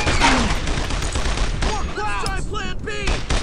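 Brothers in Arms: Earned In Blood wartime battle with an MG-42 machine gun firing, loud continuous bursts of automatic gunfire and heavy shooting filling the whole stretch, with shouted voices mixed in.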